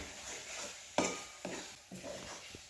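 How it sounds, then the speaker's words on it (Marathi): Tender cashew nuts being sautéed in ground masala paste for a Konkan-style dish, heard as quiet, close stirring scrapes and light pan knocks over a faint sizzle, with three or four distinct strokes. "हे आता वाटणामध्ये आपण काजूगर परतून घेऊया"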